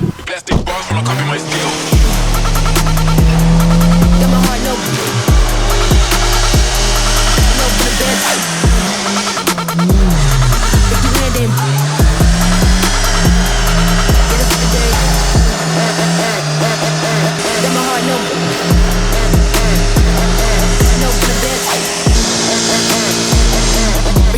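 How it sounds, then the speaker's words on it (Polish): A loud Fiat Seicento engine runs hard with rapid popping backfires and stuttering revs, a continuous harsh roar broken by repeated sharp bangs and dips throughout. "To jest chyba najgłośniejszy i najlepiej strzelający wóz ze wszystkich."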